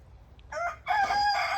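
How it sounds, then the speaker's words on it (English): A rooster crows loudly nearby, a short opening note followed by a longer, drawn-out call. "he's my good rooster. Here's my bad rooster"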